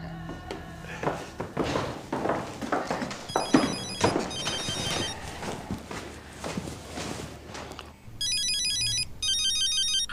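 Footsteps and shuffling movement, then a bright electronic phone ringtone plays in repeating bursts near the end, fairly loud and close.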